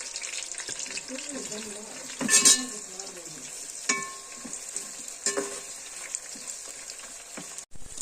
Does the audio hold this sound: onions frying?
yes